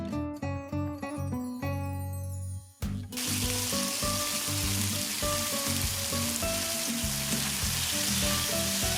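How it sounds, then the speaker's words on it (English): Marinated chicken thighs sizzle and fry in oil in a pan on medium heat, a loud, steady crackle that starts abruptly after a brief moment of other kitchen noise and continues without talk. "Add some oil to a frying pan on medium heat and cook the marinated chicken thighs for about 7 minutes"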